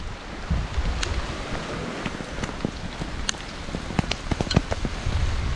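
Rain falling outdoors on an island beside a campfire, a soft steady patter with scattered sharper drops and light wind buffeting the microphone, no voices.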